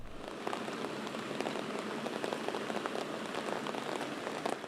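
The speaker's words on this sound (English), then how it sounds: "especially here in this rain." Steady rain falls on a surface outside the governor's home in Augusta, Maine, a dense, continuous patter of close drops at an even level throughout, with no voices heard.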